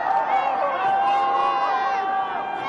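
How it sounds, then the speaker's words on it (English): An excited crowd cheering and shouting during a total solar eclipse in China, a sustained mass of voices whooping and calling out together, fairly near and loud for the whole stretch. "The crowd is actually being very excited"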